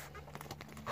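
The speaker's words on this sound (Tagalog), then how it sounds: "yung mga storage box na may zipper" A zipper on a fabric clothing storage box gives one quick, quiet zip in a small room, with a brief louder pull at the very end.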